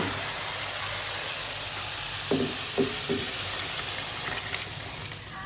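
Continuous loud sizzling of onion and whole garlic sautéing in a hot pan, with a few brief clinks of stirring, up close.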